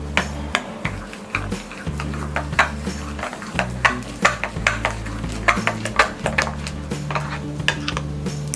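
Roasted gram flour being stirred into a paneer tikka marinade with garam masala, a spoon knocking and scraping a bowl in repeated sharp taps over a steady low background hum, no talking.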